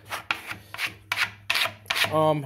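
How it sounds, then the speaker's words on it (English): A squeegee is pulled in repeated rasping strokes across a screen while printing black ink onto light shirts, about five short scraping passes close up, with a low hum beneath and a brief tonal squeak at the end. "grab the squeegee here and then literally just run it around"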